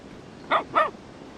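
A dog barks twice in quick succession, close and fairly loud, during a livestream session with light background noise.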